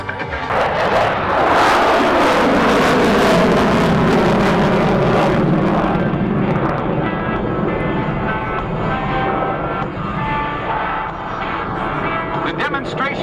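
F-35B fighter jet roaring past at an air show at Iwakuni, a loud sustained jet rumble that swells and then slowly fades as it moves away, with crowd and announcer speech mixed underneath.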